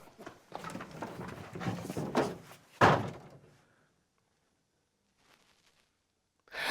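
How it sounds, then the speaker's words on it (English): A door slams shut with one sharp, loud bang after a stretch of busy voices, then a long near-silence follows, broken only by faint distant noise. "just left and slammed the door"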